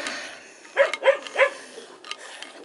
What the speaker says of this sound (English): Farm dog barking, on guard duty,